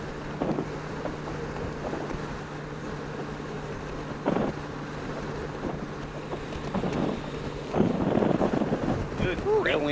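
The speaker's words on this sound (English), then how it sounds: "Ooh, that wind is blowing pretty good." Strong cross wind buffeting the microphone during a ride on a Honda Goldwing motorcycle, a continuous roaring rumble that swells and gusts, with people talking faintly over it.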